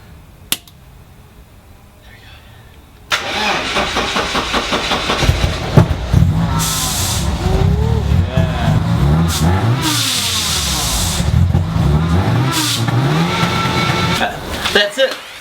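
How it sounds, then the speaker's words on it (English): A supercharged BMW E36 with an M40 engine starts for the first time: after a short crank it catches and runs loud and close, revving up and down with a rough, uneven note, while people talk nearby. "Alright, so we've done all the hard work and now it's time for the first start."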